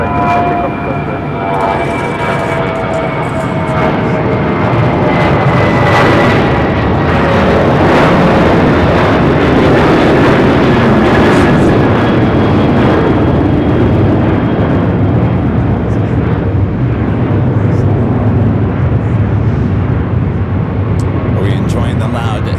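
A SkyWest jet taking off from runway 6 right at Los Angeles International Airport, a loud continuous engine roar swelling and holding throughout, with radio talk over it.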